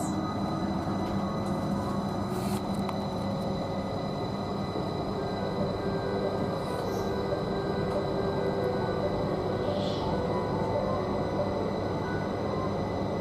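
Heathrow Express train running toward London Paddington, a steady loud rumble of wheels and carriage noise filling the whole span with no break.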